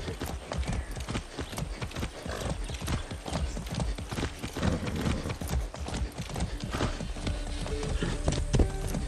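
Horse hooves clip-clop in a steady, rapid rhythm throughout a ride in the video game Far Cry 6, close and continuous with a brief whinny-like sound mixed in.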